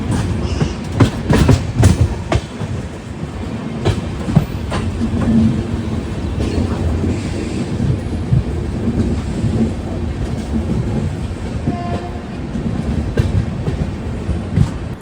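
The Sriganganagar–Thiruvananthapuram North Express rolls past near Sabarmati Junction, a loud, steady rumble of wagons with sharp rhythmic clickety-clack wheel beats over rail joints, continuing for the full passage without speech.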